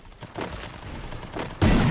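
Gunshots in a multiplayer shooter video game, scattered cracks followed by a sudden louder blast near the end, close and sharp, with no talking.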